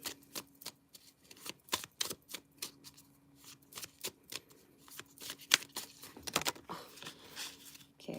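A tarot deck is shuffled by hand at a live reading. Rapid, uneven card snaps and riffles come close and crisp, with no talking.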